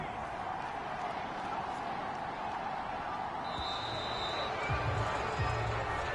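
Steady stadium crowd murmur from the Madden 22 American football video game, a constant wash of distant fans with faint scattered thumps and a brief whistle-like tone midway, no clear cheering peaks.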